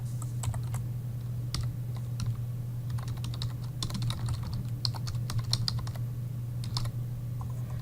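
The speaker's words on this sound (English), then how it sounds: "We're going to select add, and we're going to type" Computer keyboard typing: a run of quick, close key clicks in uneven bursts over a low steady hum, with no voices.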